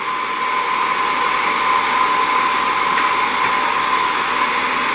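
A hot air blower runs steadily at close range, heating the plastic sheet on a screen protector with a constant whooshing roar and fan whine that never changes pitch.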